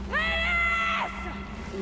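Lara Croft lets out a strained, rising scream in the Tomb Raider 2013 game, loud and sustained for about a second, followed by quieter breathy game sounds under a steady low hum.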